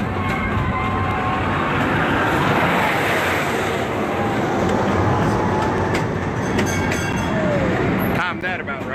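Railroad train running near Lake Erie, a loud continuous rumble and rattle of rolling wagons that carries through the whole clip with faint squeals near the end.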